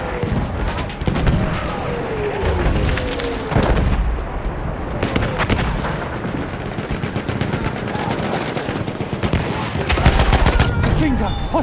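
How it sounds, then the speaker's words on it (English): Machine gun fire in the World War I shooter Battlefield 1 on the Achi Baba map, with dense rapid bursts and distant booms throughout a loud, chaotic battle, with faint voices in the mix. "Machine gun, hostile!"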